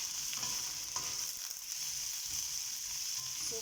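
Green beans and carrots stir-frying in a pan give a steady, soft hiss of sizzling oil with light scraping stirs, faint and close, with no talking.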